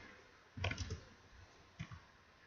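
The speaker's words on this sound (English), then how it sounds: "go and type MongoD and click enter" A few quiet computer keyboard keystrokes, a short cluster of clicks followed by a single press a moment later, heard alone in a still room while a command is entered.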